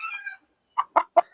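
Round head gamefowl roosters give a few short clucks, with three distinct bursts close together after a faint warbling call at the start, heard near and moderately loud without talk.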